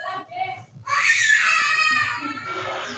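A woman's shrill, high-pitched scream or wail rises abruptly and holds loud and sustained for about two seconds, following brief muffled voices, during an online class session.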